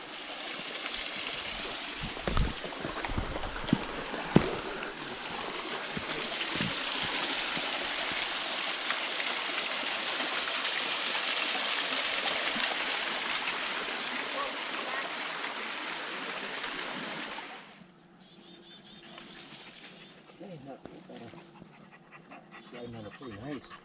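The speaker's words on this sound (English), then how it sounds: "We're at our first waterfall." A waterfall at Little Wilson Falls on the Appalachian Trail rushes in a loud, constant roar for most of the stretch, with a dog panting and people talking nearby, before the water fades to a quieter background.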